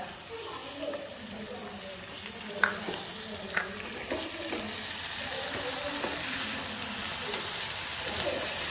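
Grated coconut, melted jaggery and banana stirred together in a pan for a sweet dessert, giving a soft sizzle with occasional scrapes and taps of a spoon against the pan, steady and close.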